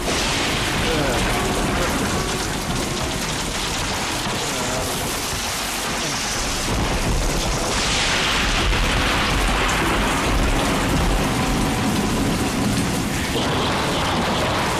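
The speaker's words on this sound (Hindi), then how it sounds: "देख बारिश बहुत है" Heavy rain pouring continuously, a dense hissing downpour drumming on surfaces with low rumbles like thunder underneath, loud and unbroken for the full length.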